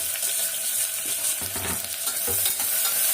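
Sliced big onion and green chillies sizzle in a pan in a home kitchen, a steady close frying hiss broken by scraping stirs of the spatula.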